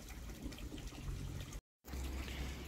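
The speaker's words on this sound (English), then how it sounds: "I put 50ml into a jar, fill the jar with water and scatter it around the pond." Water from a jar is scattered into a garden pond, making a soft continuous splashing trickle that breaks off briefly into silence before resuming.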